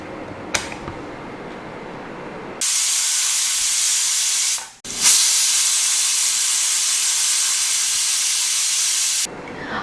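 A pressure cooker vents steam in a loud, steady hiss while beef vindaloo cooks, first broken by a few clicks, then a long continuous blast that briefly cuts out and resumes before stopping.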